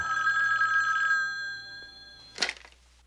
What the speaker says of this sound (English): 그날 밤 그들의 집에 남자가 전화를 걸어오죠.